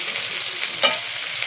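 Moong dal and potatoes stirred and frying in hot oil in a pan, a steady soft sizzle with one brief louder scrape of stirring near the middle, close and alone.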